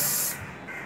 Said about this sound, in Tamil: ஸோ நம்ம என்ன பண்ணணும்னா டியோட்ரண்ட் வச்சு நம்ம க்ளீன் பண்ணோம் அப்படின்னா அது நல்லாயிடும்